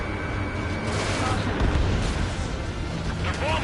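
Bombing explosions in Ace Combat 7 roll in as a dense, continuous rumble of blasts and deep booms, steady and loud throughout with no clear breaks.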